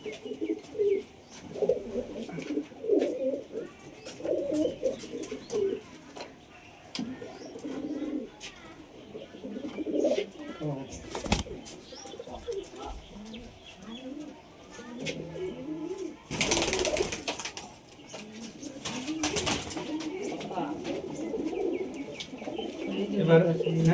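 Caged pigeons on a rooftop coo and burble continuously at close range, with occasional wing flaps and brief louder bursts, while people talk intermittently over the birds.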